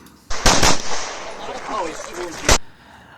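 Rapid gunshots ring out at a USPSA practical shooting match, a quick close cluster of loud cracks followed by one more shot after a short pause, with a voice talking over the middle.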